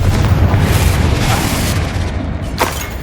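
A loud, rumbling blast from the Confringo fire spell in the Hogwarts Legacy video game, a sustained booming roar with a sharper burst near the end.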